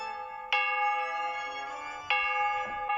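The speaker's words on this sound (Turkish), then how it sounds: "Ziller çalıp duruyor." A video game bell rings out twice, each strike sustaining a bright, shimmering tone that slowly fades before the next one lands.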